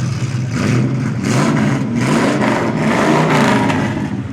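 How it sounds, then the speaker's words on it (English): A 1968 Ford Fairlane 500 Fastback engine rumbles loud and close through its dual exhaust, running steadily with repeated swells of revving and no talk over it. "Good sounding dual exhaust."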